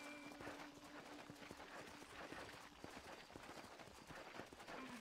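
Horse hooves clip-clop at a quick, uneven pace, with sharp repeated strikes and a faint high tone in the background.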